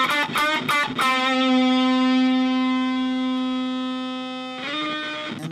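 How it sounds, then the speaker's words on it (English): A Dwarfcraft Shiva effects pedal blended into a guitar signal through a One Control Mosquite Blender: a few picked notes, then one long, loud sustained chord that rings and slowly decays, with fresh strums near the end. "I've got the Shiva from Dwarfcraft devices up here, and as I start blending that in, I start getting some more interesting tones."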